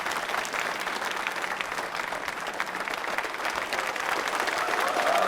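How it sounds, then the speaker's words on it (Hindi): Sustained applause from an audience at a quiz show, dense and even throughout, steadily building slightly louder toward the end. "तालियां जोरों से बजाइए इस गीत के लिए।"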